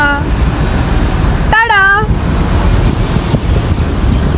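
A stream rushes through a jungle park as a loud, continuous roar close by, with a brief high whistle-like voice rising over it midway.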